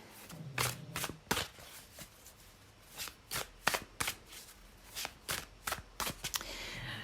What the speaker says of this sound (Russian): Итак, перемешиваем наши райские карты.